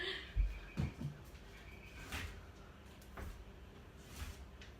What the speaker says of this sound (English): I have to open up my dodgy pantry door again